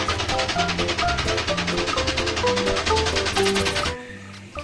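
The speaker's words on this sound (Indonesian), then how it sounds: "Wow, ada kereta api uap lagi teman-teman." A toy steam train runs close by, its steady clicking chug mixed with a tinny, looping tune. It plays loudly and evenly for about four seconds, then stops abruptly.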